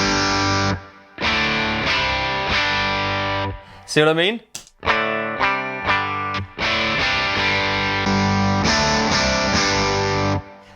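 Electric guitar run through an Opel ODR Mini overdrive into a Boss EQ-200, loud sustained distorted chords and riffs with a brief pause and a short spoken aside in the middle.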